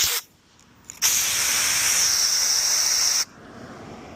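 Compressed air gives one loud, steady hiss lasting about two seconds as it blows debris out of a truck hydraulic hose fitting, close up, with brief quieter puffs just before.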